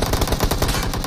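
Rapid, loud automatic gunfire from the PUBG Mobile video game, a dense continuous burst of shots running through the whole moment with no pause.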